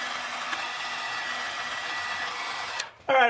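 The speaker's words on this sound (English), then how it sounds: "Let me go grab a heat gun and some shrink tube and we'll just close those off real quick." A heat gun blows on heat shrink tubing over wiring for Ford Bronco tail lights, a steady close whooshing hiss that cuts off abruptly, followed by a brief different noise.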